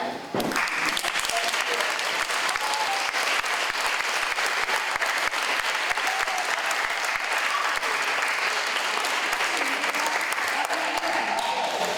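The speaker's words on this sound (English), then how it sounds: "To show our appreciation, we would like to all give you a standing ovation." Seniors and guests give a standing ovation at a high school graduation ceremony, with sustained, dense applause from a large crowd filling the hall steadily from start to finish.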